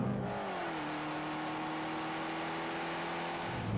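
A Fiat 500 Abarth turbo engine revs and holds a raspy, droning exhaust note with a slight pitch shift, loud and continuous throughout.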